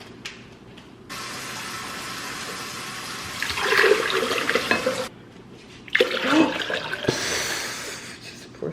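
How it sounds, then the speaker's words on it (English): Water pours and splashes into a glass with salt in it, in two separate bursts nearby, with quieter pauses between. "Just pour some of the water."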